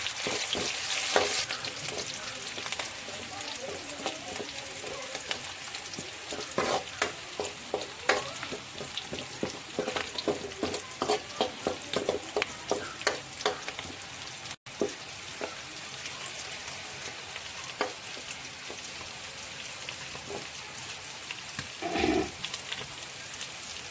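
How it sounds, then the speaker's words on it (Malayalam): Curry leaves fry in hot oil for a coconut-based mackerel fish curry, giving a steady, close crackling sizzle with bursts of popping that continue throughout, broken by one brief dropout. "ഇനി നമുക്ക് കറിവേപ്പില ഇട്ട് കൊടുക്കാം"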